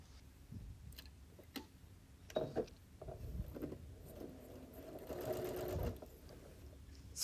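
A sewing machine stitches quilt block pieces at a quarter-inch seam, a quiet, fast rattling run of needle ticks in a few bursts with pauses and small handling clicks between.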